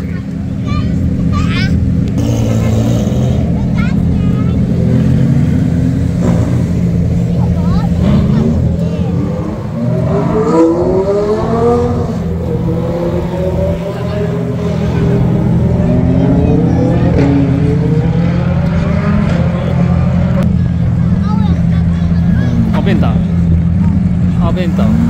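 Lamborghini Aventador engine revving at a supercar gathering, a loud sustained roar with rising and falling revs close by, under crowd noise and voices talking.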